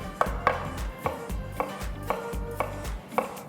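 Knife chopping ginger on a cutting board while preparing aromatics for braised tofu, giving a steady run of about a dozen close, crisp chops with no talking.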